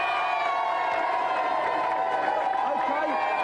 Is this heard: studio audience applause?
yes